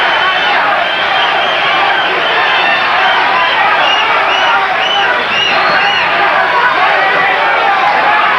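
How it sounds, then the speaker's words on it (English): Boxing arena crowd at a heavyweight fight between Pinklon Thomas and Tim Witherspoon, a loud, dense wall of cheering and rhythmic chanting that fills the whole stretch without a break, with no clear single voice standing out. "Crowd going into a chant here"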